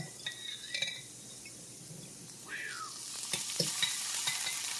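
Garlic and diced jalapeño sizzle steadily in a stovetop pan for shredded BBQ chicken, with a fork scraping and clinking through them now and then, close and fairly quiet, with no talk.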